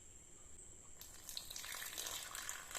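Water is poured and stirred into ragi flour in a bowl for a smoothie, a soft splashing trickle that starts abruptly after a quiet second and continues faintly and close.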